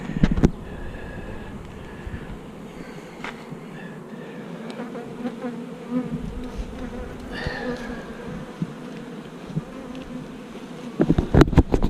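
Honeybees buzz steadily around a hive jar outdoors, a close, continuous drone with individual bees passing nearby and a few light knocks.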